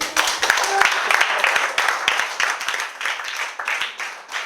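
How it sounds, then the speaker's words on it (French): Crowd applause at a francophone church gathering, dense clapping from many hands filling the room with voices mixed in throughout. "Applaudissez"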